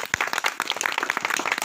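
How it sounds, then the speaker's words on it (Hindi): Audience applause for Kanshi Ram at a gathering, a burst of individual claps from a modest crowd, uneven and close, rattling on for under two seconds. "तो माननीय कांशी राम जी के लिए एक बार ताली बजाइए"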